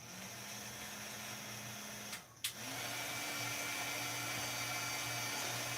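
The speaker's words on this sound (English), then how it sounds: "And I'm going to turn on my heat tool." An embossing heat tool blows a steady, loud whir throughout, cutting out briefly near the middle before resuming, with no talk over it.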